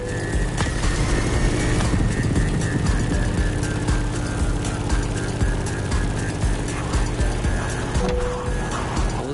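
Grumman F8F Bearcat propeller fighter in The Crew Motorsport racing game, its piston engine droning steadily and loudly throughout with a constant rough throb and faint mechanical rattles.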